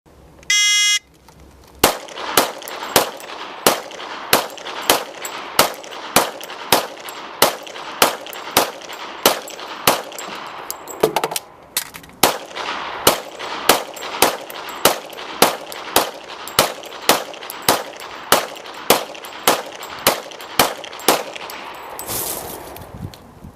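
Rapid gunfire as a sheriff's demonstrator empties two 15-round magazines at three targets on a range, sharp evenly spaced shots in a steady run of about twenty seconds, loud and close with metallic ringing.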